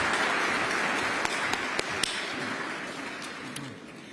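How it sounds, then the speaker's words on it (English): Steady applause for speakers at a Veterans Day breakfast reception, a broad even patter of many hands with a few sharper claps standing out, moderately loud and filling the room. "Another round of applause"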